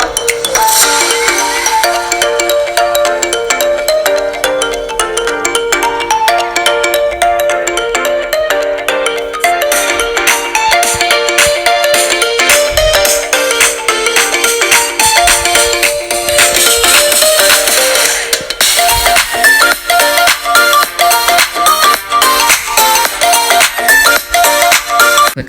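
A Samsung Galaxy Rugby Pro phone speaker plays a loud, continuous tonal test melody at full volume, bright and steady throughout with faint rattling, no voices.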